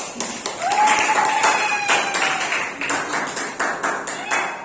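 A high-school economics class applauds group 3 after being invited to welcome their presentation. The clapping is steady and uneven across the whole stretch, with a thin ringing tone over part of it.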